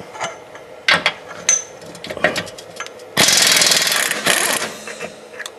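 Short bursts of an impact gun hammer at an 18 millimeter transmission mount bolt under a 2001 Buick Park Avenue, with a few quick rattling hits followed by a longer, louder sustained burst close by.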